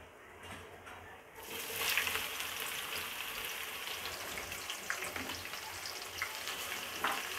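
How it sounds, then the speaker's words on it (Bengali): Spices for beef rezala hit a hot pan and start frying, a soft sizzle rising suddenly and continuing with light stirring clicks and scrapes. "আমি এগুলো হালকা নেড়ে এরপর পেঁয়াজ কুচি দিব।"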